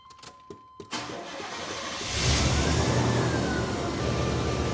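Big block Chevy V8 cranking in a few quick starter bursts, then catching and rising into a loud, rough, steady close-up run with the fuel pump relay disconnected, no talking.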